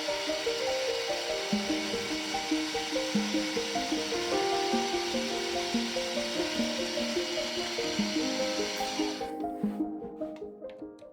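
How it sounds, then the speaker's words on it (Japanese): A drill bores a hole through a small metal cylinder cock body for the plug of a live steam locomotive, a steady close whirring with regular rhythmic pulses that stops near the end, followed by a few light clicks. "方向を変えてコックプラグの通る穴を開けていきます。"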